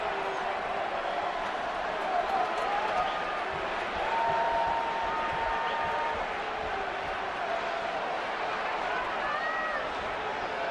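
Baseball stadium crowd at a Dodgers–Giants game in San Francisco, a broad, distant murmur of cheering that swells slightly, with broadcast commentary talking over it.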